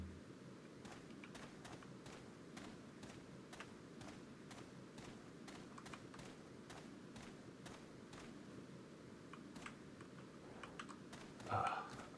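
Computer keyboard keys clack at an uneven pace during gameplay, light individual taps spread across the span, close and quiet, with a brief louder bump near the end.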